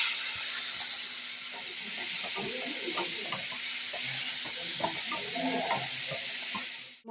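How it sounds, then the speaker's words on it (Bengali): Chopped onion fries in oil in a pan, a continuous close sizzle with light stirring clinks and scrapes throughout, ending abruptly. "নিয়ে পেঁয়াজটাকে একটু ভেজে নেব"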